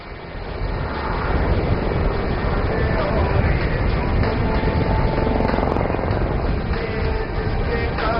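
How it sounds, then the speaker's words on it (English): Military helicopter performing a steep zoom climb at an air show, Aero India: a loud, continuous rotor and engine roar with broadband whine, steady and close for the whole stretch, with no pauses. "The helicopter will execute a steep, rapid ascent to gain altitude and level off at the top into a high"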